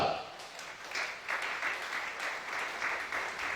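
A church congregation applauds through the whole stretch, a dense wash of clapping swelling in waves, loud and fairly close, with some voices mixed in.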